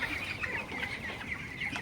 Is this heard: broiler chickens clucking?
yes